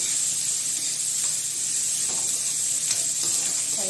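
Pakoras frying in hot oil give a constant close sizzle with bubbling hiss and faint crackles, continuous and alone without talk.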